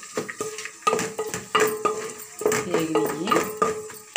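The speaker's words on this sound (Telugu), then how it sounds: "ఉల్లిపాయలు వేగుతున్నాయి చూడండి." Onions fry in a pan for a biryani, sizzling steadily while a utensil stirs and scrapes against the cookware at close range.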